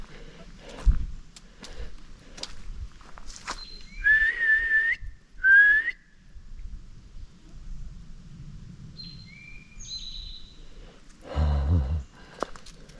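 Whistles in the woods answer a person's call during a Bigfoot investigation hike: several short, clear, rising and sliding whistled notes at moderate distance, separated by quiet gaps, with faint rustling and a couple of thumps.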